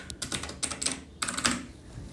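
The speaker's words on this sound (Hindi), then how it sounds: "तो ये है मेरा पहला मैकेनिकल कीबोर्ड" Rapid clicky typing on a Cosmic Byte CB-GK-12 RGB mechanical gaming keyboard fitted with blue switches, bursts of sharp close keystrokes in quick uneven runs with brief pauses, no voices.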